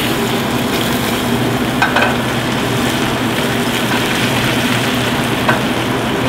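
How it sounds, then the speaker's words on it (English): Fish sizzles skin-side in a hot pan as a steady, loud, close frying hiss with crackling throughout, served by a chef at a San Francisco restaurant kitchen. "after the fish has been cooking a little while, we can go ahead and flip it"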